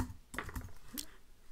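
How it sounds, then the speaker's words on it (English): Quiet tapping on a computer keyboard, a few quick irregular keystrokes close by over a low background hiss. "so if I'm gonna go and start typing"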